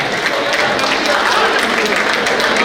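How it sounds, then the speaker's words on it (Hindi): A large crowd at a grand get-together event in Chandrapur applauds loudly, a dense, continuous roar of clapping close and steady throughout. "तालियां तो बजाइए, जोरदार तालियां"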